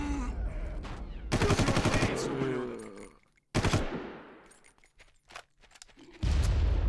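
In the Far Cry video game, loud rapid automatic gunfire bursts out, then a sharp grenade blast cuts through and fades, followed by more heavy gunfire at the end.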